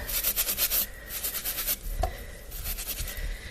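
Potatoes are scrubbed clean by hand for potato salad, giving soft, rhythmic rubbing and scraping strokes in short bursts with a brief pause between them, fairly quiet and close.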